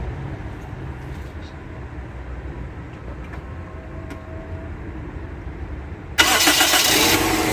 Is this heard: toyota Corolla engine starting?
yes